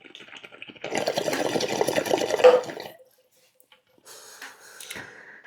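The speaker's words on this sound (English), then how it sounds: "It's a little bit of a dead zone when you go to blow water in the tank, Tim, but someone's got to do it." Water is poured into a water pipe tank, a bubbling, gurgling rush lasting about two seconds that ends abruptly, then silence, followed by fainter rustling and a short breathy sound.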